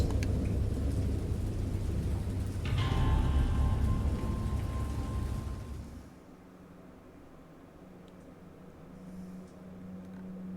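Heavy rain pours with a deep thunder rumble in a stormy sound effect, loud and steady at first, then dropping abruptly to a low, distant patter, with no voices.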